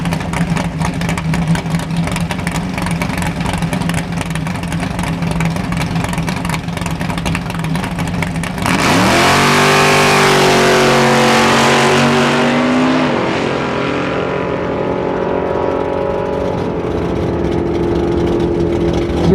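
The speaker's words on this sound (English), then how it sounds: "Left lane is a 1970 Plymouth Duster with a great big thumping 440 big block Dodge engine on board." A 1971 Ford Mustang and a 1970 Plymouth Duster with a 440 big block V8 drag race down the strip. Both cars idle with a loud, steady rumble, then launch into a full-throttle roar that rises in pitch as they pull away and fade.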